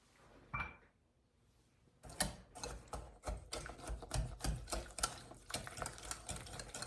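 Whole egg and egg whites are beaten for a lite pumpkin pie: after a brief clink and pause, a quick rhythmic run of whisking strokes clatters against the bowl, close and fairly quiet.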